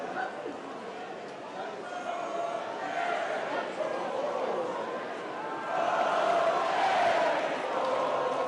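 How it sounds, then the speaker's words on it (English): Crowd of Corbyn supporters at a Labour party conference cheering and chanting his name, a dense, sustained mass of voices that swells louder in the second half. "Corbyn supporters cheering and singing his name."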